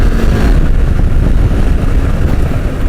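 A KTM 890 Adventure R motorcycle engine roars loud and close, a steady continuous drone mixed with rushing wind for about three seconds, with no voices.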